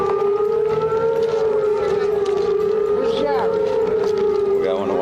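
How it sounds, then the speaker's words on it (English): An air raid siren warns of incoming mortar rounds at a military base on a USO tour, a loud sustained wail holding steady with a wavering pitch, steady background noise beneath it. "You hear the sirens right away, and they're like the sirens you hear when you watch a movie and people are being bombed."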